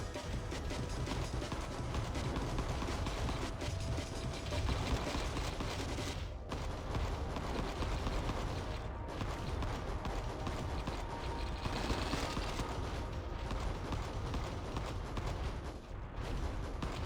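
Turrets firing in the mecha roguelike game Vital Shell, a dense continuous barrage of rapid shots and explosions forming a loud, unbroken wall of gunfire with brief dips.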